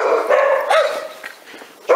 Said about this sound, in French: Il y a des chiens de chaque côté qui aboient.